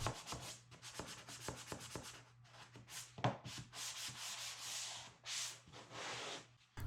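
An orbital sander rasps against hard maple in quick back-and-forth strokes at first, then settles into longer, steady sanding passes with a low hum underneath.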